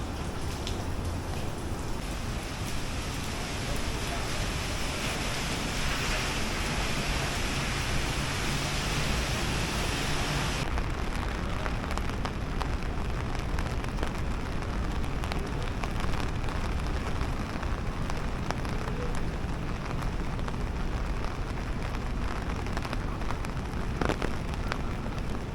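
Rain pours steadily onto a New York City street under construction cover, a dense, loud, continuous hiss of drops and splatter lasting the whole time with no talk.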